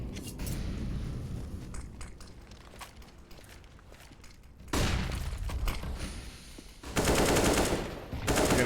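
Rifle and pistol gunfire in an esports shooter video game, rapid bursts of automatic fire that fade, then return in louder clusters, with no talk over them.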